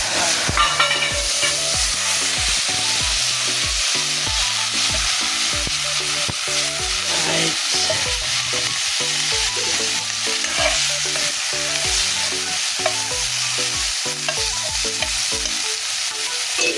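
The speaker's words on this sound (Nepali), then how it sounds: "यसलाई एकछिन भुट्न पर्ने हुन्छ" Onions fry in oil in a pan at an outdoor riverside camp, a loud steady sizzle overlaid with a regular rhythmic scraping from stirring, with no talking.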